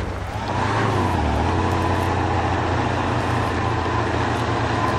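A heavily loaded truck in the off-road driving game Spintires grinds through mud, its engine giving a steady, low, close rumble that holds constant throughout.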